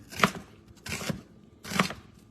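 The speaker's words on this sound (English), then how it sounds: "So now I'm going to slice up these onions" Onions sliced with a knife on a cutting board, three crisp chopping cuts at an uneven pace, close and fairly quiet with no talk.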